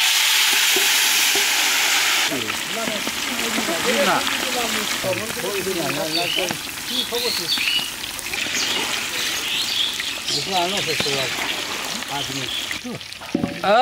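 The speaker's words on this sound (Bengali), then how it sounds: "ডিমটা দিয়ে দিলাম ভাজিয়ে নিই" Steady sizzling and crackling of eggs frying in hot oil for an egg korma at a village outdoor cooking spot, loud and close, with a person talking over it.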